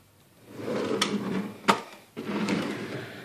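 A drawer in a home scrapbooking craft room slides open with a soft wooden rumble, punctuated by a few sharp clicks and knocks, close and fairly quiet, with no talking.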